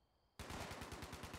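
Silence, then a sudden burst of rapid automatic gunfire from a minigun in the video game Fallout 76, a fast, evenly spaced stream of shots, loud and sustained.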